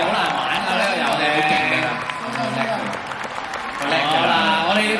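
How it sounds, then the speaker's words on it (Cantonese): Audience clapping at a fan meeting stage event after a jigsaw puzzle race game, a steady wash of applause from the crowd with loud speech from a host over it throughout. "我哋再一次俾掌聲台上咁多位觀眾啦"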